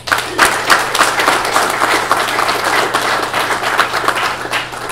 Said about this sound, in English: I really would like you to give these distinguished gentlemen a nice round of applause